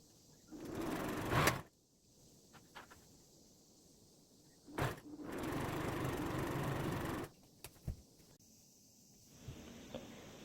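A sewing machine stitches patchwork fabric strips together for a lightweight nap blanket, running in two fairly close bursts of steady whirring, the longer lasting about two seconds, with quiet handling clicks between.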